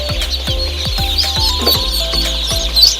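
Local duckling chicks at a duck hatchery cheep constantly, a dense, close chorus of high, overlapping peeps with brief louder chirps.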